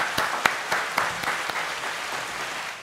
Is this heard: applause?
yes